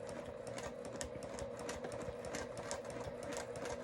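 A sewing machine runs steadily through machine quilting stitches in fabric, a continuous close-up hum with rapid needle chatter throughout and no talking.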